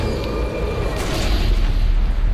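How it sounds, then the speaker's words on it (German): A Far Cry 4 explosion in-game, a loud sustained low boom and rumble that holds steady for the whole stretch with no break. "The Explosion."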